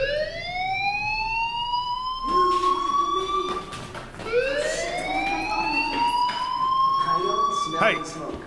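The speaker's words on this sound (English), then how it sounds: "Hey, do you hear that fire alarm?" Fire alarm ringing in the video game Life Is Strange, a loud rising, repeating electronic siren wail that sweeps upward again and again, with a voice speaking briefly underneath.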